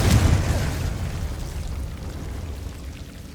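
A Confringo fire spell detonating in a Harry Potter game: a sharp, booming blast at the start that decays into a long crackling rumble and slowly fades.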